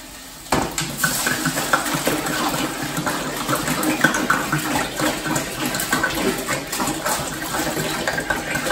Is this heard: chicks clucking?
no